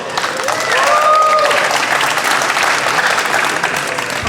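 An audience applauds a Korean student team, Team KAIST, at a pitch and panel event on inclusive water; steady, dense clapping fills the room throughout, with a few faint whistles or voices at the start.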